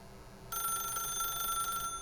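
Telephone ringing in The Stanley Parable video game, a steady electronic ring starting half a second in and holding for over a second, moderately loud over a quiet background.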